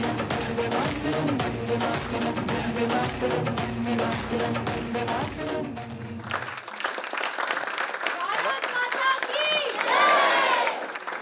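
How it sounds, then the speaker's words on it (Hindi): Loud sustained applause and cheering from an audience after a dance performance at an Indian Republic Day event, dense clapping with shouts rising above it and trailing off into scattered claps and cries. "जोरदार तालियां दोस्तों यहाँ पे वाइब्स डांस एकेडमी के लिए"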